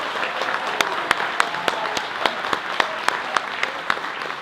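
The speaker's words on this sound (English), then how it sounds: "another big round of applause to Dr. Lobsang Sangay." An audience claps steadily at an evening event honoring Dr. Lobsang Sangay, a dense round of applause with scattered louder individual claps running throughout, no voices on top.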